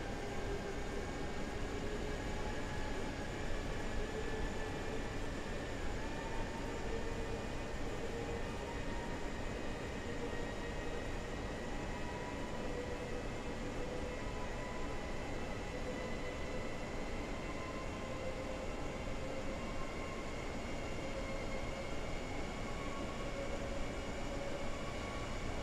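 A fast S-Bahn train in the video game Train Sim World runs continuously with a dense roaring rumble and faint whining tones, steady and loud throughout with no talk.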